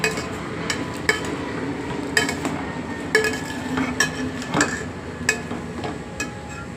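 A spoon scrapes and clinks against a pan while butter chicken is stirred over a low flame, giving a run of irregular metallic taps with a soft cooking hiss beneath.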